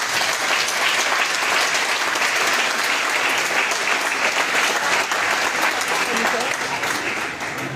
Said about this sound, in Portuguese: E aplauda o Senhor mais uma vez.